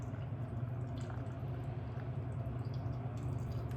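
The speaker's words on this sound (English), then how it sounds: "I take the water and I just pour it over the top" Water poured from a container over vegetables packed tightly in a fermentation jar, a steady unbroken rush with no talking.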